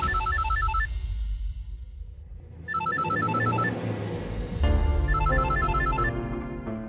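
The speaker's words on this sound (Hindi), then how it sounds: "उठाओ ना फोन।" A telephone rings in a Hindi TV drama scene, sounding as three bursts of a bright electronic melodic ringtone separated by short pauses, with a low background underneath.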